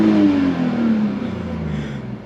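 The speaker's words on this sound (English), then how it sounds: "So give it a few revs." BMW 330Ci E46 engine, warm and in neutral, revving loudly and close up in one sustained rise that eases off steadily over about two seconds, with no voices.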